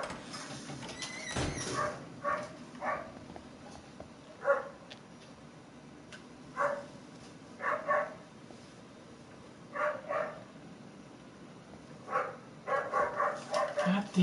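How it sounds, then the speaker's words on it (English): A dog barks in the horror video game Until Dawn: short, separate barks repeat at uneven intervals over a quiet, low background, sometimes in quick pairs or triplets. "Damn fucking dog,"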